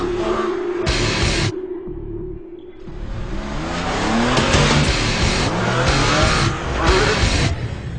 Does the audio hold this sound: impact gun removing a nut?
no